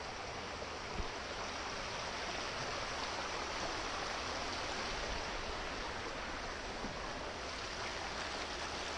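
Steady broadband rush of the Yuba River in California, continuous and even throughout, with no voices.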